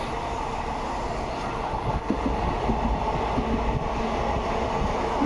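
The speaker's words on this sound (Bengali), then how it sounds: "দেখো এখানে ট্রেনটা ধিক ধিক করে যাচ্ছে" A passenger train on the Vadodara to Howrah line rolls slowly along the tracks, a dense, steady rumble and rattle heard up close with no voices.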